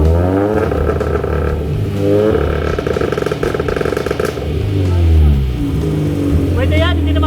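A sports car engine with a straight exhaust and no muffler revs loudly and repeatedly close by, its throaty rising and falling pitch sweeping up and down, with voices talking over it.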